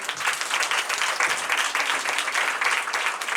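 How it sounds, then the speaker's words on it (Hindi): A worship congregation claps loudly and steadily in a dense, continuous wash of many hands, close and sustained throughout with no break. "सब लोग जोर से ताली बजाएंगे।"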